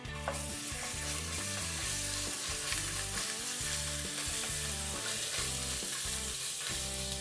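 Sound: onions frying with ginger garlic paste

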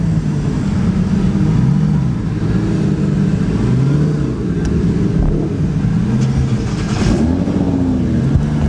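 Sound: sports car engines rumbling at a car meet

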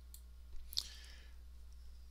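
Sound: mouse click

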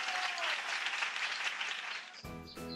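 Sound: applause

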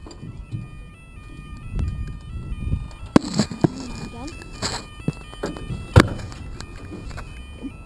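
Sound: level crossing alarm at Pencoed station

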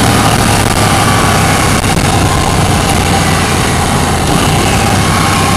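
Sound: KTM 790 motorcycle engine running at about 4,000 RPM

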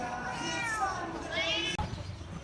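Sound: cat meowing

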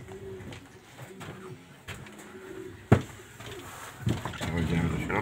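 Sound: pigeons cooing

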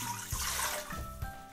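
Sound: water being poured into a big pot

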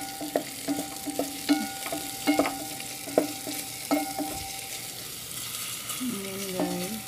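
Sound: stirring garlic, ginger and onion frying in a pan

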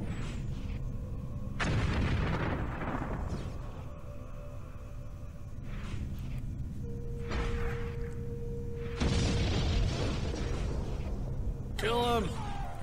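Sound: ship guns firing at fighters in Homeworld Cataclysm video game

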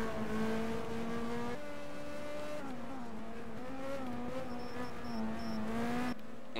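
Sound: racing cars driving in a racing video game

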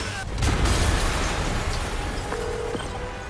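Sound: explosion in the video game Spider-Man Remastered

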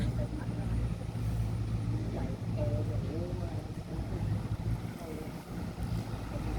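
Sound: rushing river water like a waterfall

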